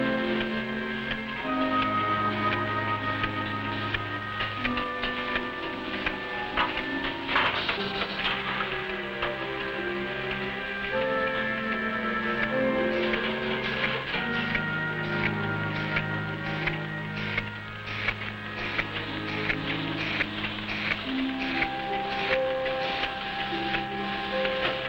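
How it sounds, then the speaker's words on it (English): A Nutrilite capsule encapsulating machine runs steadily, giving off a constant mechanical whir with rapid rhythmic ticking and clicking throughout, under background music and with no talking. "The encapsulating process takes place here."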